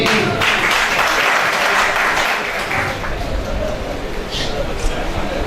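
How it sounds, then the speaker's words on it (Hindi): Audience at a Pakistani mushaira poetry gathering in Layyah claps for a nominated poet, dense and loud applause filling the whole stretch, with faint voices underneath. "तालियां जी।"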